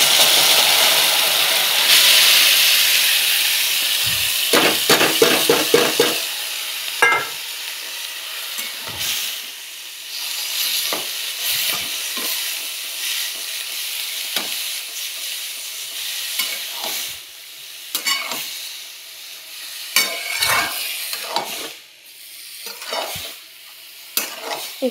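Ash gourd pieces sizzle in hot oil with coconut milk, a steady loud frying hiss with repeated scrapes and knocks of a stirring spoon against the pan throughout.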